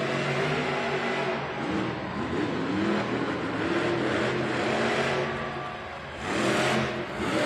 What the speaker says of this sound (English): Now it's time to hear the engine roar